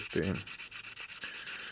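Sandpaper rubbing on modified jewelry pliers, a close, brisk scrape followed by a series of short, regular rasping strokes.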